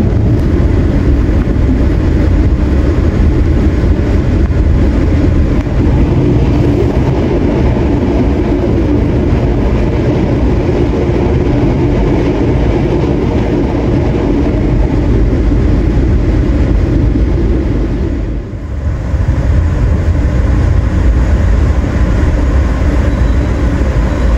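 A train at Kutoarjo station in Indonesia, an additional service on the Yogyakarta to Jakarta route, gives a loud, steady low rumble close by that runs continuously with a brief dip near the end and no speech.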